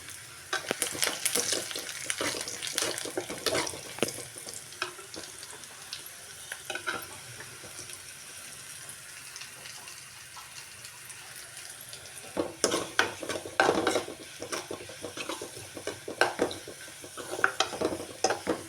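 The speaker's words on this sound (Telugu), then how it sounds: "ఇవన్నీ ఫ్రై అయిన మిరగాయలు కూడా వేసుకుంటున్నాను." Green chillies crackle and sizzle in a hot pan for a village-style mango tomato dal, with a steady fry broken by louder bursts of stirring and spattering and no voices.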